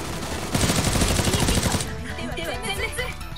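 Rapid automatic gunfire in the battle royale game Knives Out, a loud, dense burst lasting over a second before fading into quieter game sounds.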